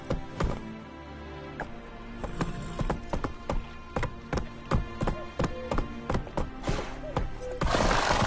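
The horse Roach galloping in The Witcher 3, a run of rhythmic hoofbeats that starts sparse and speeds into a steady, fairly loud gallop, with no voices over it.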